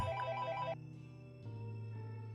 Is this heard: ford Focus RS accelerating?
no